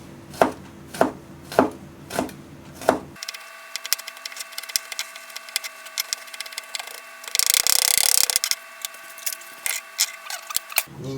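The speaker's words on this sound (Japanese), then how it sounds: "ニンニクをみじん切りします。" A knife minces garlic on a cutting board while mutton curry is prepared: about five steady, evenly spaced chops come first, followed by quieter scraping and clattering.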